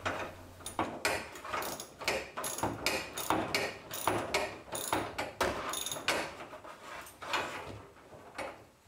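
Bolts are snugged up on a 1933 hot rod's door with a steady run of ratcheting clicks and metallic ticks, close by and continuous with no pauses.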